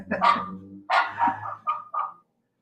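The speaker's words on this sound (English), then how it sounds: "I hear my dogs." Several barks from a house dog at home, a quick cluster followed by three shorter, spaced yips and barks that trail off, fairly close and alone without talk.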